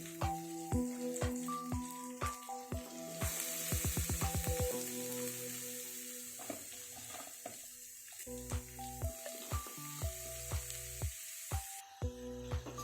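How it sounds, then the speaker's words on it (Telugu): Pieces of snake gourd frying in oil in a pan, with a steady soft sizzle broken by repeated clinks and scrapes of a spoon stirring, close and fairly quiet, with no talking. "అన్నిటికీ ఆయిల్ పట్టి మంచిగా ఫ్రై అవ్వడానికి నేను ఇలా కలబెడుతున్నాను."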